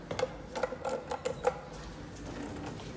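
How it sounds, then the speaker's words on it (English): A small Hissen traction elevator with a wooden cab in a Stockholm hotel gives off a run of light mechanical clicks and ticks at a steady rhythm, then settles into a soft, even running hum. "It's a Hissen traction elevator."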